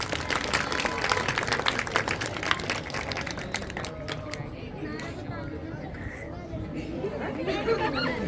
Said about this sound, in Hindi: कृपया तालियां हो जाए।